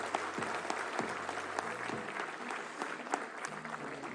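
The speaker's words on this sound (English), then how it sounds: "May we have a big round of applause for all the awardees." An audience at a national eye donation fortnight ceremony applauds school children awardees, a dense, continuous wash of many hands clapping at a distance, steady and fairly faint throughout.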